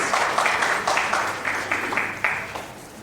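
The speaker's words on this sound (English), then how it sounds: "Round of applause, people, and congratulations." Applause from an audience at a corporate rewards and recognition ceremony, a steady mid-level wash of clapping with a few sharper claps standing out over three seconds.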